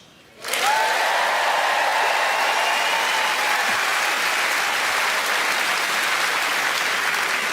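A stand-up comedy audience breaks into loud, sustained applause after a brief quiet start, clapping filling the room steadily without letting up.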